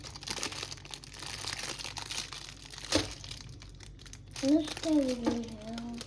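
Crinkling and tearing of plastic packaging as a gold candle is unwrapped at home, close and busy, with a mother and someone talking over it.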